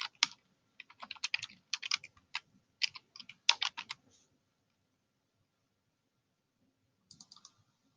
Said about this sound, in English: I'm going to go ahead and type that in.